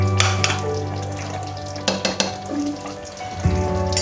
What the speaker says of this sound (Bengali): এবার আমি একটু ওপরে একটু 1 চামচ ঘি দিয়ে দিচ্ছি